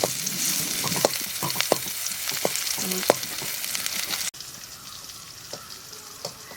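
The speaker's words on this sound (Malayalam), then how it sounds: "ചെറിയുള്ളി ഇട്ടി ഒന്ന് വഴറ്റിയെടുക്കുകയാണ്" Shallots sauté in ghee for moringa (drumstick leaf) soup, giving a continuous close sizzle and crackle broken by stirring scrapes. The sizzle drops abruptly quieter partway through.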